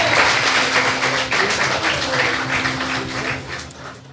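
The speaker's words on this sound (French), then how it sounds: "On peut les applaudir." Applause from a live audience at a podcast quiz show recording, a steady wash of clapping that holds for several seconds, fairly loud and close.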